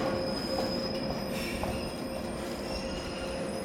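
A 485 series electric train rolls into Takao station with steady rumbling and a high, sustained wheel squeal, close by and continuous throughout.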